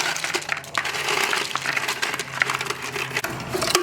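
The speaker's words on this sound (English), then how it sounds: "toss this ice." Ice being tossed into an ice chest over venison, a close, loud rattling crunch of cubes tumbling and clattering against each other and the chest for a few seconds.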